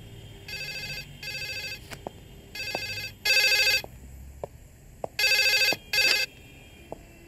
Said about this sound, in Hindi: फोन ले, डायल कर।